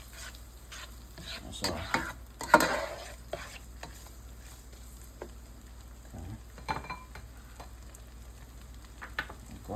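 Cooked crab meat is mixed in a pan, with scraping spoon strokes and soft sizzling in short bursts over a low hum, a few clinks against the pan, and a brief spoken remark near the end.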